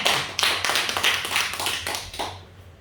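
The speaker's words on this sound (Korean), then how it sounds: "찬양 인도하며 수고해 주신 우리 선교사님께 박수." A church congregation claps for a missionary in a burst of quick, dense applause from a small gathering, close and fairly loud, tapering off toward the end.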